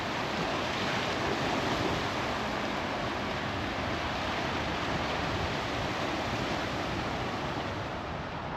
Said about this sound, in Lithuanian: Pasižiūrėsim, kur į fiordus vanduo įteka.